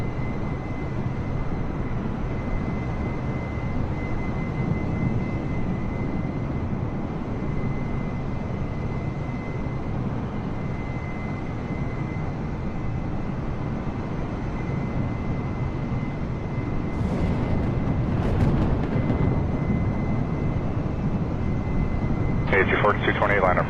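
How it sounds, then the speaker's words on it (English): An airliner takes off from runway 23, its engines giving a steady, loud roar with a thin whine held throughout. Faint radio chatter cuts in near the end. "clear takeoff runway 23"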